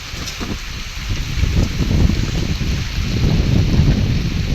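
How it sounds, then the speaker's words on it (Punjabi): Heavy rain pours steadily over a Punjabi village, a dense, constant broadband wash that swells slightly louder as it goes on, with no voices over it. "ਮੀਂਹ ਪੈ ਵੀ ਬਹੁਤ ਤੇਜ਼ ਰਿਹਾ ਬਹੁਤ ਤੇਜ਼ ਘੰਟਾ ਹੋ ਗਿਆ ਮੀਂਹ ਪੈਂਦੇ ਨੇ"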